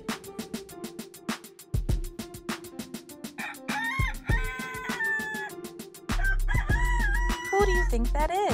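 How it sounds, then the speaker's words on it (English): A rooster crows over a bouncy toy-like musical backing, with clucking fowl sounds and a brief cough-like noise mixed in. "It's a rooster."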